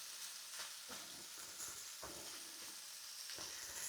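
Shrimp frying in a pan, a soft steady sizzle and hiss with occasional louder crackles and pops, close but quiet, with no talking.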